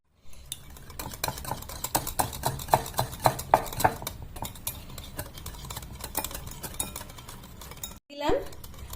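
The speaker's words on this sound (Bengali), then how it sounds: "এবার এগুলো সব আমি একসঙ্গে মিশিয়ে নিচ্ছি।" Spoon stirring and scraping yogurt, kitchen king masala, Kashmiri chili and paneer together in a bowl, with a run of regular clinking strokes near the start, then softer mixing and a brief bump near the end.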